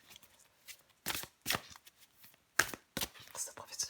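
Tarot cards handled during a card draw, producing several brief papery snaps and shuffling riffles in quick irregular bursts, close and fairly crisp, with soft sounds in between.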